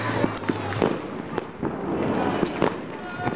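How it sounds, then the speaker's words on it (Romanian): Fireworks go off in Romania for a 2013 celebration, with repeated sharp bangs and crackles scattered at irregular intervals near and far, over continuous background rumble and some voices. "Artificii la greu."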